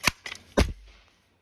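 A pneumatic air gun fires a single sharp crack in cold outdoor weather, followed moments later by a second loud report and a brief low rumble that fades out.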